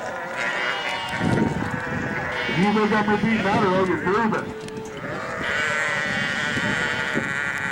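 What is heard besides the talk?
sheep bleating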